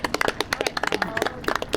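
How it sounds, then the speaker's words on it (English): A small group of people clap by hand outdoors on a farm tour, a loose burst of individual sharp claps with uneven rhythm, fairly close and clear. "Ladies and gentlemen, clap it up for Miss Frida"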